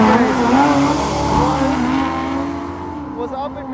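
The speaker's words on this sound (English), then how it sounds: "They have that new engine, that inline six in the Dodge over in the far lane." Dodge trucks with inline six engines drag racing, a loud close engine roar with rising and falling revs that fades toward the end, a voice talking over it.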